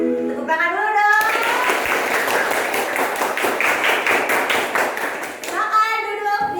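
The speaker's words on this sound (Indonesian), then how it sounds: "Tepuk tangan dulu dong." A class of children claps in a fast, steady rhythm for several seconds, loud and close, with children's voices speaking just before and after.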